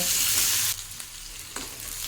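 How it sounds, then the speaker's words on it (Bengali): Onion frying with garlic and neem leaves in hot oil, a loud close sizzle that drops sharply after a stir, then softer crackling with a couple of spoon scrapes. "এখন পেঁয়াজটাকে রসুনের সঙ্গে এই নিম পাতার সঙ্গে খুব ভালো মতো করে ভেজে নেব।"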